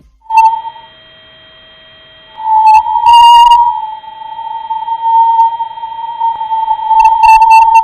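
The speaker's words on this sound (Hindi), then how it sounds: "यह तीसरी ऑडियो हाई चार्ज पार्टिकल में होने वाले बदलाव की आवाज है।" Sonified NASA recording of the Sun's charged particles: a loud, steady whistle-like tone with brief bursts of higher chirping overtones, starting with a short tone, a pause, then a long sustained drone.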